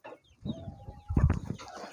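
A few chickens on a small poultry farm eating grass, clucking close by in short, soft bursts, with a brief higher call partway through.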